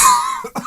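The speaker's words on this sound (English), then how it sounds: "He coughs to the whole room" A single sharp, close cough bursts out and is followed by a brief second rasp, loud and with no talk around it.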